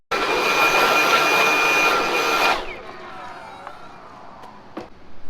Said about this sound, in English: I'll give this a quick blow down